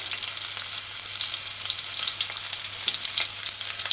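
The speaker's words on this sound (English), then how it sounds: "See, I like my onions sauteed." Onions sautéing in oil with ginger, a steady close hiss of frying with faint stirring scrapes throughout, no talking.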